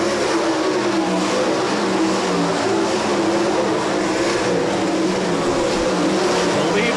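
360 sprint cars racing around a dirt oval at a weekly racing series, their engines a continuous loud droning roar that rises and falls as the pack passes, with no voices.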